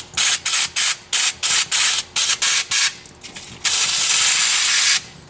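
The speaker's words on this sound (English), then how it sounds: "I'll take some brake clean and I'm going to shoot all the grease and clean this up real good." Brake cleaner is sprayed onto a greasy spinner bearing from a Zipper ride in a string of short, sharp hissing bursts, followed by one long continuous blast, close and loud.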